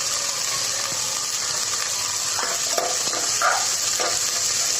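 A large onion sliced lengthwise fries in a pressure cooker for vegetable biryani, with a steady close sizzle and a few irregular stirring scrapes.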